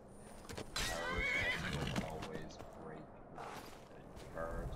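A horse whinnies loudly amid Skyrim game sounds as it attacks someone, with hoof clatter and metallic clanks, followed by softer snorts and shuffling.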